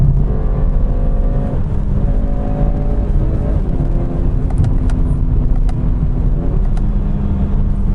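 BMW 4 Series engine revving steadily under manual paddle-shift gear changes, a continuous rasping drone heard from inside the car with faint shift clicks partway through.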